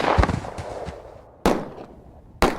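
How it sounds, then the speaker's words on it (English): Sharp cracking gunshots go off in an animated film: an initial burst of rapid pops, then two loud, isolated shots about a second apart, each ringing out briefly. "Better just shoot him now."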